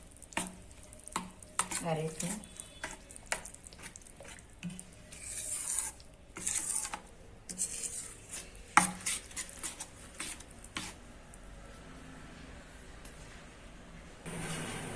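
Dhokla batter with turmeric and asafoetida being stirred and whisked in a bowl, giving uneven scraping and rubbing sounds with occasional spoon clinks close up, while a voice speaks briefly.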